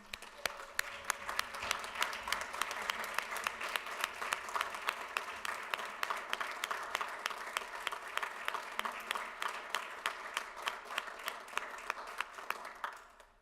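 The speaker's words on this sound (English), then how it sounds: "Please join me in applause for Commissioner Heidi Carter" Sustained applause from the audience at a county board of commissioners meeting, a dense steady patter of many hands clapping at moderate distance that fades out at the end.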